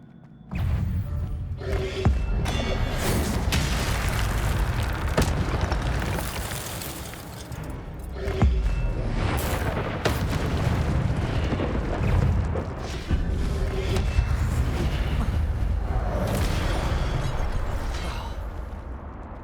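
Incendio fire spell cast in the video game Hogwarts Legacy, heard as loud booming bursts of flame and impact over dense game noise, repeating several times across the stretch with no talk.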